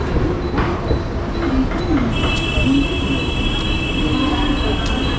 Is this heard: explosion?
no